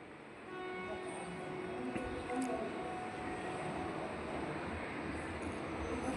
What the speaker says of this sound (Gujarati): ચાલો આ ટ્રેન પણ નીકળી